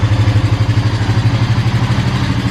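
A Honda Rancher four-wheeler with a newly installed starter idles close by, a steady, loud, rhythmic low chugging with no talk.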